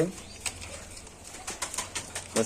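Pigeons shuffle and flap in cages at a busy pigeon market, with scattered wing flutters, soft coos and clattering, and faint voices in the background.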